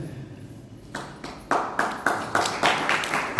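Scattered hand claps from an audience at a Hindi religious discourse, a few sparse claps at first building into a quick run of sharp, fairly close claps.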